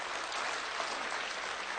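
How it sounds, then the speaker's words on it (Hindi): Audience applause during a public speech in Hindi, a dense, even burst of clapping heard alone from a large crowd, steady and somewhat distant. "अच्छी बात पर अच्छी ताली बजनी"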